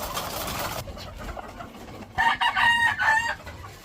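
Breeding hens are kept where a rooster lets out one loud, close crow lasting about a second, after a quieter stretch of background clucking.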